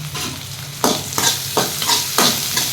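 Curry leaves sautéed in hot oil in a frying pan, a steady close sizzle with several sharp bursts of stirring and scraping spaced about half a second apart.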